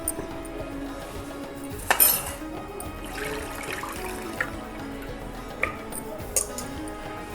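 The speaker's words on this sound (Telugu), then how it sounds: "బాగా వాష్ చేసుకోవాలి మటన్." Raw mutton being washed in water, several rinses, heard as faint splashing and watery sloshing with occasional clinks of a metal vessel, close and moderately quiet, no talking.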